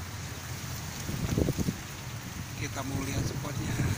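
Strong wind blowing outdoors behind village houses at an eel fishing spot, a steady gusty rush with buffeting on the microphone and someone speaking over it.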